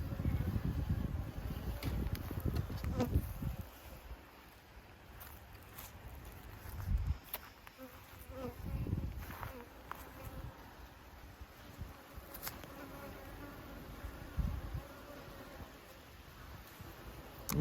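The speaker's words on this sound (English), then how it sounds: "You see these bees are really calm, nice bees." Calm honey bees in an open hive during queen marking, with a faint continuous buzzing and humming, occasional handling knocks and bumps close to the microphone, and bits of soft talk.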